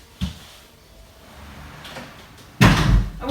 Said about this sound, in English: Let me go and shut that door